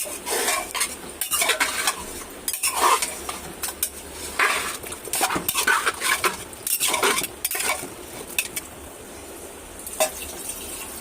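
Continuous busy stirring of whole spices and garam masala in a pot, metal spoon clinking and scraping repeatedly in quick irregular bursts, fairly close, with no talking.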